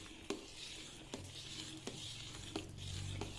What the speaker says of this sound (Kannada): ಇದನ್ನು ಇವಾಗ ಚೆನ್ನಾಗಿ ಮಿಕ್ಸ್ ಮಾಡ್ಕೋಬೇಕು